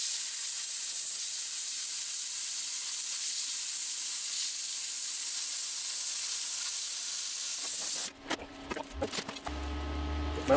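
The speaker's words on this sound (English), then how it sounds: "Yep, I think the bucket's melting." A plastic bucket melts with a steady, loud hiss and sizzle lasting several seconds, then cuts off into irregular clattering and crackling noises.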